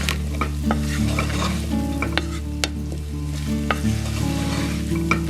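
Chorizo, onion and garlic sizzle in a pan while being stirred, a steady frying hiss broken by repeated utensil scrapes and clinks against the pan, close and fairly loud with no voices.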